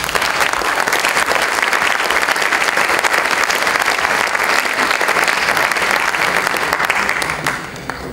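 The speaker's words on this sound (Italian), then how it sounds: "Un bel applauso" An audience at a literary prize ceremony in Mestre breaks into loud, sustained applause, dense clapping that fills the hall for several seconds before tapering off at the end.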